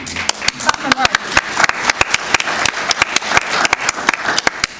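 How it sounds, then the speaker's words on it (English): An audience at a panel event on U.S. innovation and regulation claps steadily, with distinct sharp hand claps in an irregular rhythm that carry loud and close over the full stretch. "You'd think by the third time I'd know to wait for the applause"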